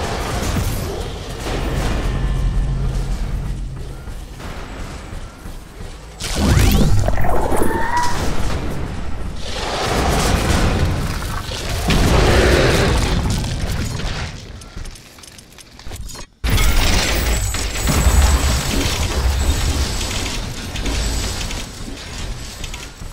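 Base buildings and connectors blow apart in The Riftbreaker, heavy booming explosions and crashing debris rolling through a loud, dense, continuous barrage with bursts of louder blasts.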